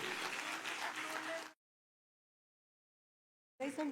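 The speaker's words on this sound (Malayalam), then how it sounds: "നല്ലൊരു കൈയടി കൊടുക്കാം ആ ഒരു ഉജ്ജ്വലമായ കൃതിക്ക്." Audience applause at a live event, a dense burst of clapping for about a second and a half that cuts off into silence, then resumes briefly at the end.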